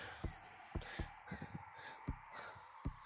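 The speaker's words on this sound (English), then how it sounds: "little bird sounds." Little bird calls in a video game, a series of short, faint chirps and caws spaced irregularly over a quiet background with occasional soft thumps.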